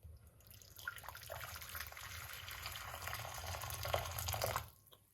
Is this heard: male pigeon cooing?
no